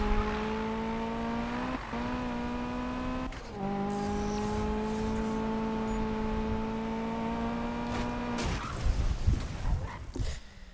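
A car engine held at a steady high-pitched drone, shifting in pitch a few times before ending in a burst of rough, scraping noise that fits a skid.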